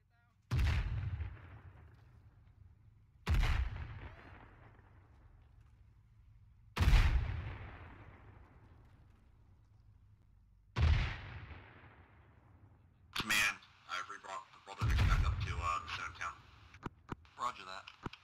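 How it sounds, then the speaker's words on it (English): Mortar rounds landing in Arma 3 during a World War III-style Zeus session: four heavy booming impacts spaced a few seconds apart, each with a long decaying rumble, then a denser burst of blasts and crackling fire near the end. "Mortars!"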